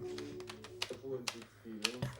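Computer keyboard keys clacked in short irregular bursts, close and fairly loud, with a voice speaking intermittently over the typing.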